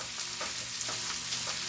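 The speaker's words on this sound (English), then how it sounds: "So you can hear the sizzle." Bacon and vegetables sizzle steadily in a pan, a continuous close frying hiss with soft stirring scrapes and no talking.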